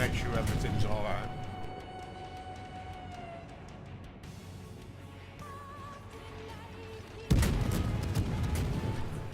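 Naval guns fire from the cruiser Belfast in the World of Warships game, heavy booming salvos that fade and then burst again loudly near the end, over ambient game sound, with a person talking throughout.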